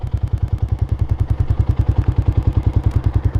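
A heavily used motorcycle engine, past 50,000 on the odometer, ticks with a steady, rapid clicking over its low idle thump. The noise is close and continuous throughout, with no talking.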